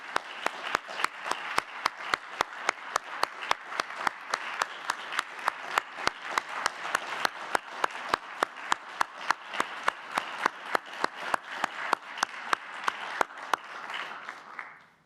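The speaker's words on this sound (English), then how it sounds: "Please join me in another round of applause for all of tonight's honorees." An audience at a university awards ceremony gives sustained applause for the honorees: dense, steady clapping from a large crowd, loud and continuous for about fifteen seconds before tapering off at the end.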